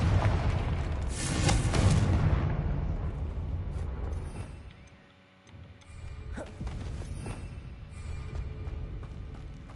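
A Confringo spell explosion in Hogwarts Legacy lands as a loud, deep blast early on and fades out, followed by a few smaller thuds and rumbles.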